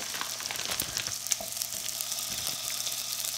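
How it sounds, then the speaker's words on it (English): Sausages fry in bacon fat in a pan, a dense, even sizzle and crackle close by, steady throughout with small pops and a brief scrape. "I'm just going to add in my sausage so it can cook in that bacon fat"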